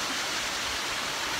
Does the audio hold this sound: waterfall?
yes